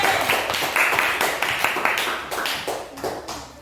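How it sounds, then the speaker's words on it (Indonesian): Clapping from a classroom group of students rewarding a team for a correct answer during a lesson, a short burst of uneven hand claps with distinct separate strikes, fairly close and unaccompanied by talk. "tepuk tangan dulu untuk kelompok C"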